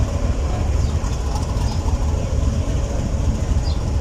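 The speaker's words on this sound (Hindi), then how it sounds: "ये आ रही है 41 अब काराकोरम एक्सप्रेस प्लेटफॉर्म पर प्लेस होने के लिए" Train rolling into a railway platform on the Karachi to Lahore line, the 41 UP Karakoram Express, heard as a steady, loud low rumble of wheels and engine with no clear breaks.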